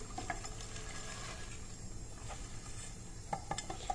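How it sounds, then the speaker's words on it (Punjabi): Fried boondi being stirred into sticky sugar syrup in a pan with the gas turned off, giving soft continuous scraping and light sizzling, with a few sharper spoon clicks near the end and no talk. "ਹੁਣ ਇਹਨੂੰ ਆਪਾਂ ਚੰਗੀ ਤਰ੍ਹਾਂ ਮਿਕਸ ਕਰ ਦਿੰਨੇ ਆ ਬੁੰਦੀ ਨੂੰ ਚਾਣੀ ਦੇ ਵਿੱਚ"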